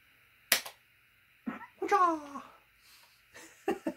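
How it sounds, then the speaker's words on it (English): A fire punch attack in the Amiga game Worms, with short sharp cartoonish pops and a squeaky chirping character voice, separated by pauses under a steady electronic hum. "Let's go for another fire punch."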